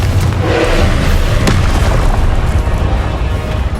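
A Confringo explosive spell blast in Hogwarts Legacy, a loud booming burst layered into dense, continuous game combat noise with a sharp transient near the middle.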